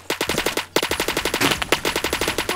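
Rapid automatic gunfire from the Roblox shooter Phantom Forces, a loud, steady stream of shots broken by one short pause near the start, then continuing without letup.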